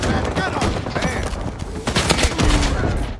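Automatic rifle fire sprays across a team in Rising Storm 2: Vietnam during the Battle of Hue City, dense rapid bursts of close, loud gunshots cracking in quick succession with no pauses, mixed with game ambience.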